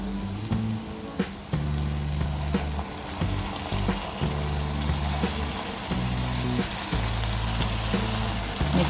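Fenugreek leaves frying with softened onions in a pan for methi tamatar sabzi, giving a steady, close sizzle broken by occasional clinks and scrapes of stirring.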